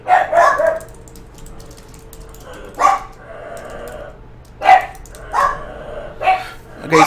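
Several dogs bark in bursts at someone at the door, loud and close, a strong volley at the start followed by separate single barks spaced a second or two apart over a low steady hum.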